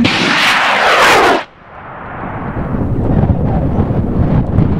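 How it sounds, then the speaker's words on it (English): Large rocket lifting off on an M6400 motor at an outdoor farm launch, an intense roaring blast for about a second and a half, then a sudden drop into a fading, rumbling echo with wind. "So this rocket's going to fly on an M6400"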